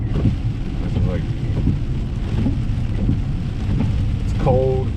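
Heavy, steady rain pours over a mountain campsite at Shenandoah while low cloud sits on the overlook, a dense, loud hiss filling the whole time with faint voices and a brief tonal sound near the end.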